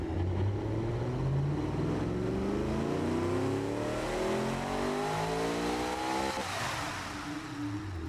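A V8 drift truck engine in the BeamNG driving simulator revs hard, its pitch sweeping steadily upward through the rev range before dropping off near the end, loud and continuous with no talk.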